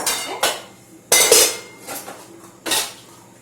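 Metal kadhai cooking pans knocked and set down one after another, giving four sharp clanks with ringing tails, close and loud with no talk.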